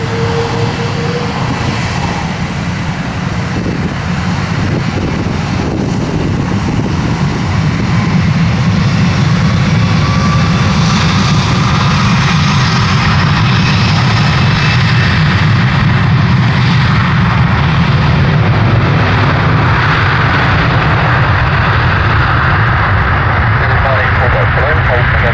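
A US Airways Airbus A330-200 jet departs London Heathrow Airport, its engines roaring loud and steady for the whole stretch as it takes off, a broad continuous rumble that builds slightly toward the end.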